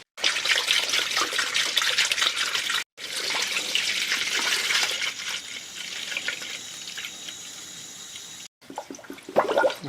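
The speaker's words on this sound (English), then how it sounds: "looks like it's coming out in a stream now." Engine coolant from a 1999 Acura RL radiator pouring out in a steady stream, a continuous splashing, trickling rush broken by two brief gaps.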